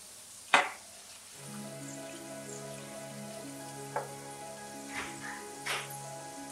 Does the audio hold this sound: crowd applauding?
no